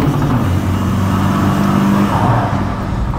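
Car engine revving steadily under deep accelerator pressure, a loud close mid-pitched roar held for a few seconds with no speech, from an engine with heavy smoke on hard acceleration.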